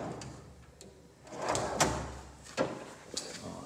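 A drawer on a padded Husky 27-inch 11-drawer tool chest and cabinet combo glides shut on its soft-close slide, giving a quiet, close-up slide and a few muted thuds with no slam.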